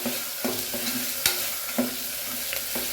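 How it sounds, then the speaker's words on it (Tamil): Fresh green peas fry in oil in a pan for veg pulao, giving a continuous close sizzle. A spoon scrapes and stirs the pan several times, with no talk. "இது இதில் போட்டு ஆயிலில் ஃப்ரை பண்ணுறேன்"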